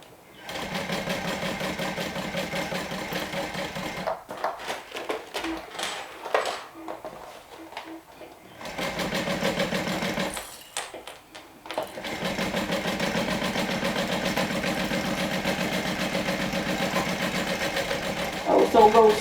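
A sewing machine stitches a curve on a garment slowly, its rapid mechanical whirring running in long stretches that stop and restart, with a voice talking over it.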